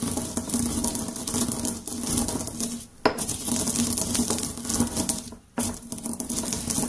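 Coffee beans being ground by hand with a mortar and pestle give a steady, dense clatter of gritty scraping and tapping, close and continuous, with two brief pauses.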